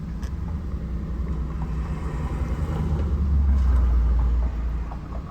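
A 2015–19 Nissan Rogue with a mass airflow sensor fault idles with a low, steady engine rumble that swells slightly partway through, then eases back.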